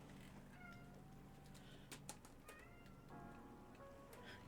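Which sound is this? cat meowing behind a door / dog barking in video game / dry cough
cat meowing behind a door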